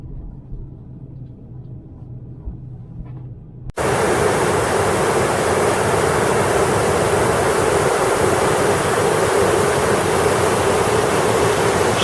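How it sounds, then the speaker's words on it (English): Water rushes down a dam spillway at a state park, a loud, constant roaring wash that bursts in abruptly after a few seconds of quieter low ambient rumble and then holds steady. "Spillway coming out of the dam."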